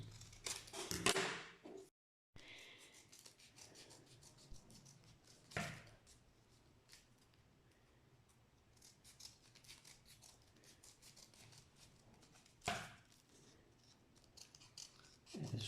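Scissors cut paper for kirigami in short snips, with a few sharp, louder cuts standing out among faint rustling and handling noises.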